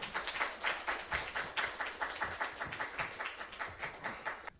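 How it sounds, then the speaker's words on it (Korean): Church congregation at a Korean parents-and-teachers seminar clapping to welcome a pastor, faint and somewhat distant, falling into a steady rhythmic beat of evenly spaced claps. "여러분 박수로 맞아주시기 바랍니다"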